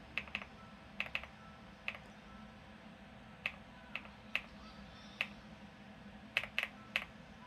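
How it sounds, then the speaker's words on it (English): Sparse keystrokes on a computer keyboard at a mini PC, single taps and quick double clicks spaced irregularly over a quiet room hum, close and crisp. "I guess I'm using keyboard here."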